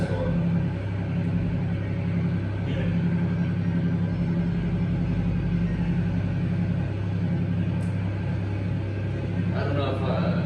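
A deep, steady engine rumble from a neighbor's truck next door carries on without a break, with a few faint sharper sounds and some low talk over it.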